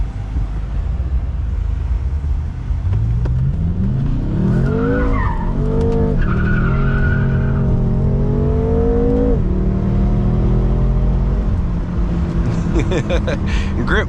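BMW M5 drifting, engine rising and holding a revving pitch while the tires squeal and skid continuously through the corner, loud and close from inside the car.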